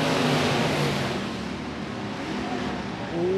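Modified race cars roar around the track at the Sherman County Speedway, a continuous engine drone swelling and fading as cars pass, heard from the stands.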